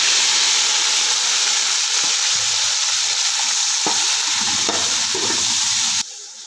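Vegetables sizzle and crackle in a hot pan for green vegetable pulao while being stirred, a loud continuous fry with scattered scraping knocks, cutting off abruptly near the end.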